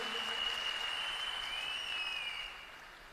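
An audience claps loudly and steadily for a production team at an IMC business product event, a dense unbroken wash of applause with a thin steady whine riding over it, easing off slightly toward the end.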